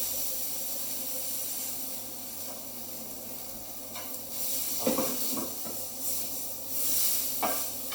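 Pork searing in a dry pan with a little oil gives a steady close hiss and sizzle, with louder crackling bursts and scraping partway through as the meat is pressed down.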